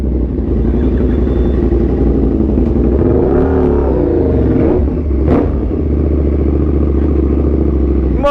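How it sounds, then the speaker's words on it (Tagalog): Naked sport motorcycles on a group ride, including a KTM Super Duke 1290, Suzuki GSX-S1000 and Kawasaki Z H2, rumble and rev loudly and continuously nearby, with engine pitch rising and falling throughout and no talking. "ingay ito ng motor"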